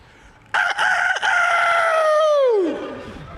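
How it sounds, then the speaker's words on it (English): A rooster crows once, loud and close, at a UFC fighters' press conference. The call opens with a couple of sharp notes, holds a strong, long middle and trails off in a falling tail, with no speech over it. "Black Rooster, baby."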